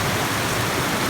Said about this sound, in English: You ready to walk across this waterfall? It's going to be super loud, so I have to yell.